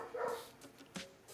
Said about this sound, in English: I don't know if you guys can hear the dog